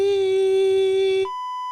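A loud, steady electronic beep holds for a little over a second, then cuts to a quieter, higher sustained tone until the end.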